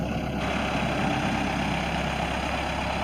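A 2007 Lull 944E-42 telehandler is driven around, its heavy engine running in a steady, close, unbroken drone with no voices over it.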